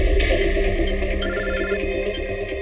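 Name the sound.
telephone ringing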